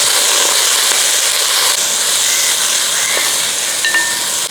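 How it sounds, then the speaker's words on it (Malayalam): Chopped small shallots hitting hot oil in a pan for a Kerala chicken perattu, a loud steady sizzle and hiss throughout with faint stirring scrapes, no talk. "ചെറിയ ഉള്ളി ഇത് ചെറുതായിട്ട് മുറിച്ചൊക്കെ വെച്ചിരിക്കുന്നതാണ് അതങ്ങോട്ട് ഇട്ട് കൊടുക്കുക അതൊന്ന് ഇളക്കി കൊടുക്കുക"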